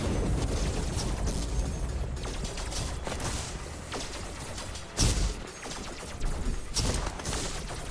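A Gatling cannon fires in the drone survival game Steel Swarm, producing repeated bursts of rapid shots and punchy impacts over a constant mechanical din, with one especially heavy hit in the middle.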